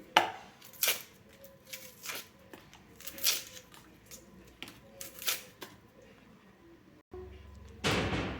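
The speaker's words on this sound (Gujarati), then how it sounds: "ડુંગળી બટાકાને છોલીને કટ કરી લઈશું" Onions and potatoes being peeled and cut by hand in a home kitchen, a series of irregular close knife taps and scraping strokes, then a brief clatter near the end, with no voices.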